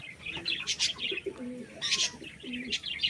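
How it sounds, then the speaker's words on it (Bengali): Eye pigeons kept for sale coo softly in short, low repeated phrases, mixed with scattered chirps and light bird activity close by. "দুটো চোখের পায়রা।"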